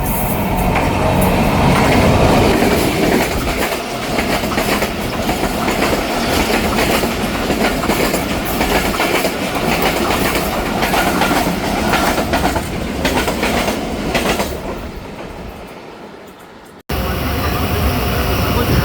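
Awam Express train passing at speed through Kamuki station in Pakistan, a loud, continuous rumble and clatter of wheels close by that runs for most of the stretch before cutting off abruptly, with some talk.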